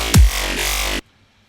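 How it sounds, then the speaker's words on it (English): A side-chained bass line ducks under a kick drum in an electronic mix, with one heavy kick thump followed by sustained bass, then a sudden cutoff into silence. "if I were to side chain this to the kick drum, it would sound like this"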